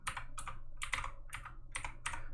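Fingers tap on a computer keyboard in quick clustered bursts of keystrokes, about six groups with short pauses between, close and crisp over a low steady hum.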